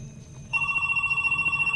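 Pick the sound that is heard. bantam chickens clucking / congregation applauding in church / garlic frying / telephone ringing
telephone ringing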